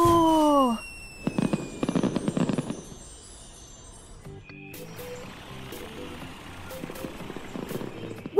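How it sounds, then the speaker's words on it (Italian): Cartoon fireworks in a children's truck cartoon set in Car City: a descending whistle, then a cluster of sharp bursts, followed by a long stretch of fizzing crackle with scattered pops, moderately loud and without speech. "Fuochi d'artificio!"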